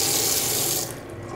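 Water from a hotel bathroom sink tap runs in a loud, steady hiss close up, then drops off sharply as the flow is cut near the end.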